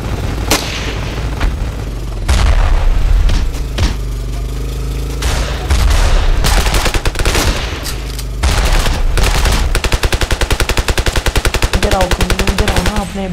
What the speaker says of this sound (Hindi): अच्छा फायरिंग हो गया